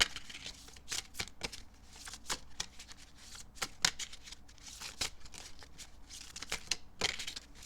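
Tarot cards are shuffled by hand in a series of crisp riffling and slapping bursts, close and fairly quiet, with short pauses between the shuffles and no talking.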